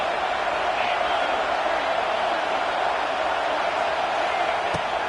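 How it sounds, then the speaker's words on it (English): Steady roar of a stadium crowd in a college football video game, a constant wash of distant cheering with a brief thump near the end, heard beneath a commentator's voice. "This crowd trying to make life miserable for this offense."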